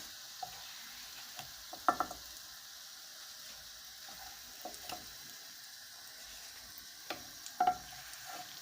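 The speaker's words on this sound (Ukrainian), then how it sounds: "Сирнички вже посмажилися, вже їх буду витягати" Syrnyky, Ukrainian cheese pancakes, finishing frying in oil in a pan, a faint steady sizzle with a few soft clinks and scrapes of a utensil now and then, heard close and quiet without talk.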